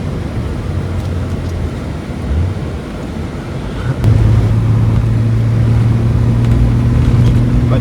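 A Toyota Cressida 2.8 Twin Cam running on the road, its steady low engine drone rising in level partway through and settling into a sustained hum with some wind noise, heard from inside the car with no talk.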